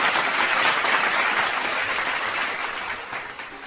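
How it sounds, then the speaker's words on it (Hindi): An audience at a Hindi poetry reading gives a poet a hearty round of applause, a dense, even wash of clapping that stays steady and tapers slightly toward the end. "एक बार जोरदार तालियां"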